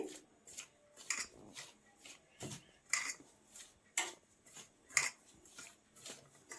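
Flour being mixed in a bowl for sweet-shop-style vampusa dough: a steady series of about a dozen rhythmic scraping and rubbing strokes, close and fairly soft, with no voices.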